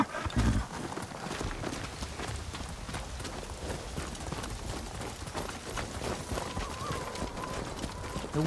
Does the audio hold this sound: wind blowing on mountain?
no